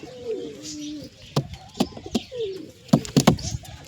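Pigeon chicks give soft warbling coos near at hand, broken up by sharp knocks and scuffing taps that come in quick clusters toward the end.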